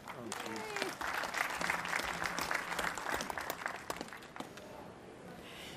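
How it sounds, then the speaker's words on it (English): An audience at a cyber defense briefing claps for a speaker's introduction, with a burst of applause that holds steady for several seconds and then tapers off, and a voice comes in partway through. "Please give me a round of applause."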